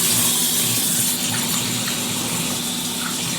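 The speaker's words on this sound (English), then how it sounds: "I'm going to go wash my hands" Running tap water pours steadily into a sink while hands are washed beneath it, a continuous close gushing splash in a home kitchen with no talk.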